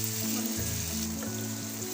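Tomatoes frying in a pan with chili and salt for paneer malai kofta, giving a steady, close, even sizzle that runs unbroken with no voices.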